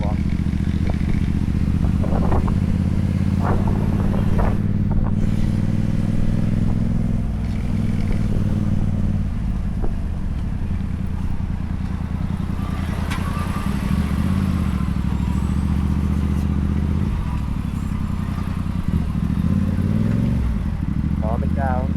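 Motorcycle engine on a road ride, revving as the throttle is opened, rising and falling in pitch over a steady mid-range drone, with a rider's voice talking over it and wind rush throughout.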